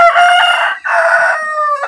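A rooster crows loudly and close by in a long, drawn-out call with a short break in the middle, heard alone without talk.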